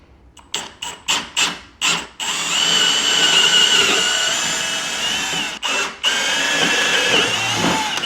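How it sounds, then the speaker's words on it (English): Several short bursts of a power drill with a 3/8 bit spinning up, then a long continuous run drilling holes all the way through, briefly stopping and restarting, loud and close. "you're going to grab your drill. And this is a 3/8. We're going to drill out the holes"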